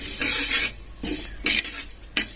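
Sesame seeds dry-roasting in a pan for a homemade Maharashtrian dry masala, stirred in several bursts of scraping and rustling with short pauses between, close and moderately loud, no voices.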